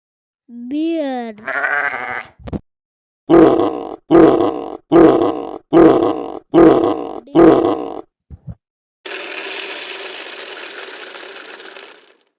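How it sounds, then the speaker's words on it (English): A bear grunts six times in a steady, evenly spaced series of short, rough, close bursts, after a pair of brief calls and before a long harsh roaring noise. "bear"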